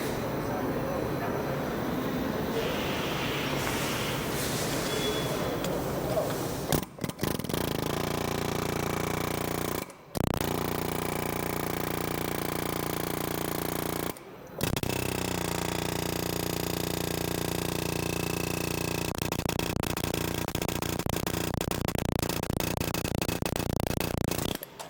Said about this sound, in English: just so we can get the air chisel onto it